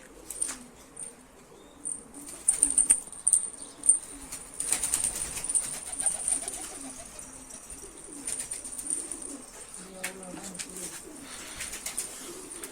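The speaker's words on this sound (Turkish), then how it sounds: "Kuşlarımızı saldık. Yaptığımız mevzide yem yerken şöyle bir gösterelim istedik." Released flight pigeons flapping and feeding at a rooftop loft in Mardin, bursts of wing claps and fluttering mixed with soft cooing and pecking, close and fairly loud, in a bright outdoor space.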